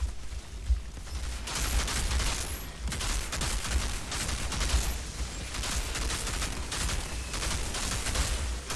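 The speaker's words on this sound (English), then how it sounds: "Stop mortar shelling me." Mortar shelling and gunfire in the video game Outriders during a Technomancer expedition: a dense, continuous barrage of shots and blasts rattling on for several seconds with no talk.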